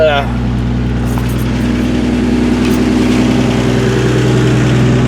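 A 1978 Dodge Aspen engine idles high and close, a loud steady low rumble with a fast regular pulse after a brief starting sound at the beginning.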